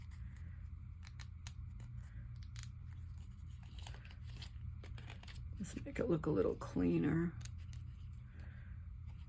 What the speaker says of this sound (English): I had a bigger scissors, so let's see if I can't get a little bit better cut here